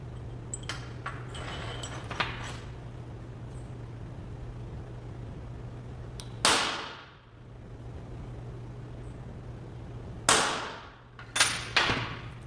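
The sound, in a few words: center punching metal with hammer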